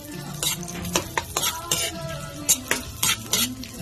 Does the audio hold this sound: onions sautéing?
yes